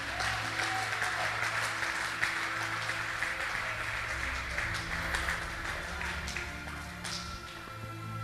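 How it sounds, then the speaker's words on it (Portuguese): A church congregation applauds in praise of Jesus, a sustained, fairly loud mass of clapping that runs unbroken, with a low steady hum of music or organ tones underneath and scattered voices mixed in. "Quem pode aplaudir a Jesus?"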